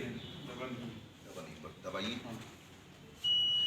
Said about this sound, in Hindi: ये पर्ची दिखी, बीप की आवाज हुई और बीप की आवाज होने के बाद